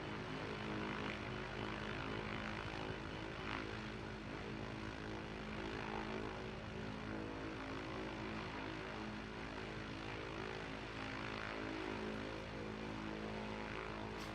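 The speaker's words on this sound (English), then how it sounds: "Where are these planes taking off from?" Propeller aircraft engine in Microsoft Flight Simulator 2024 on PS5, a steady, loud droning hum with a constant buzzing tone that holds unbroken throughout, with no talk.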